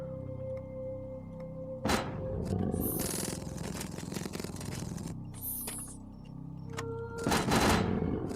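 Rapid bursts of gunfire shooting mines in the video game Call of Tomsk-7, with loud automatic fire, explosive blasts and sharp sweeps, no talking.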